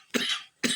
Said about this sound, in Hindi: मुझे भी बहुत ज़्यादा खांसी होने लग गई है